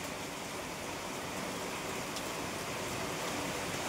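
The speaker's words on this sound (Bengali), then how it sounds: "দেখো এখন কি জোরে বৃষ্টি হচ্ছে।" Heavy rain pours down outdoors after a hot spell, a dense, steady hiss of water that holds at an even, loud level throughout, with no voices.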